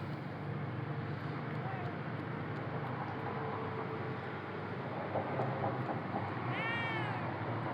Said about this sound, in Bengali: তিনটা বিড়াল